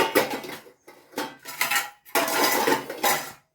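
Three potatoes are dropped into a metal bowl for boiling, producing bursts of bright clattering and rattling metal at close range, with short pauses between the clanks.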